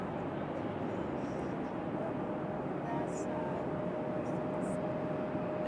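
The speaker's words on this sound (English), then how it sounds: "So there we go, American A321." An American Airlines Airbus A321 jet airliner at Raleigh-Durham airport: a steady, moderately distant broadband jet roar with a faint thin whine running through it, unchanging throughout.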